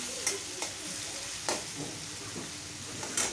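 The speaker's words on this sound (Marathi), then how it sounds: "व्यवस्थित ह्याला मॅश करून घ्यायचं आहे आपल्याला टमाट्याला चांगलं" Chopped onion and tomato fry in a pan while being stirred and mashed, a steady soft sizzle broken by several sharp scraping stirs, close and moderately loud with no talking.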